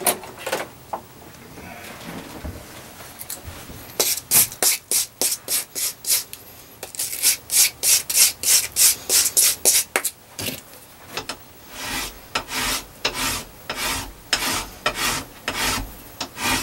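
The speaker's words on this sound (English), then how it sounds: "Aluminum tends to clog up a file." A metal hand file rasps across aluminum in repeated close strokes, a harsh scraping back-and-forth rhythm that starts sparse, then becomes steady and regular, loud and alone.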